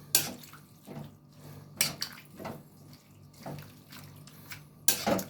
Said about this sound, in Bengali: এবার আমি এটাকে মেশাবো।